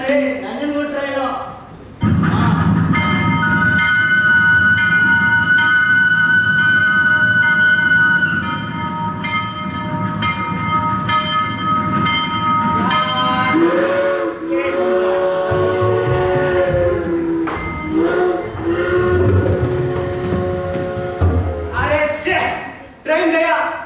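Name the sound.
train arriving at a station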